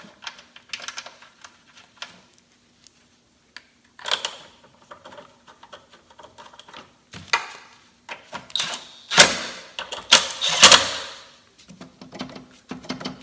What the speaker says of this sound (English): Let's install the coolant reservoir. Fits right in there.